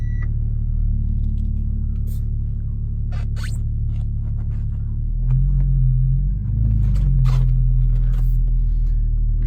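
A salvage Audi A5 idles with a deep, steady engine rumble that grows louder as the car creeps forward, with scattered clicks and small knocks close by.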